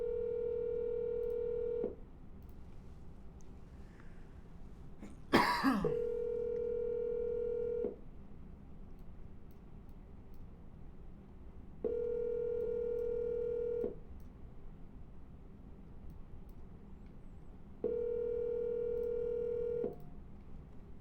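A telephone call rings out through a handset, with repeated steady electronic ring tones separated by pauses and a short burst of dialing noise partway through, all fairly quiet.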